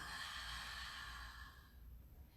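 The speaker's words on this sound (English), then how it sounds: "I want you to breathe in and breathe out." A long, deep exhale during a yoga session, a soft breathy rush that fades out over about two seconds, quiet and close.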